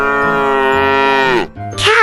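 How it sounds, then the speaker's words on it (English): A single long cow moo, loud and close, holding steady before breaking off, followed by the start of a second low call with no talking over it. "Cow."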